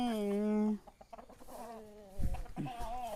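Backyard hens give a long, drawn-out call followed by a few short clucks and squawks, close and clear against light background noise.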